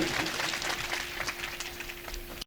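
Warm, continuous applause from an audience at a Hindi comic poetry recital, many hands clapping evenly at moderate volume with a faint steady hum beneath, fading out abruptly at the end.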